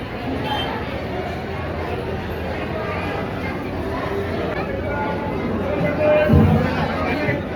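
Crowd chatter fills the inside of the Narayanpur temple, a steady murmur of many voices at an even level, with a brief louder knock or bump near the end.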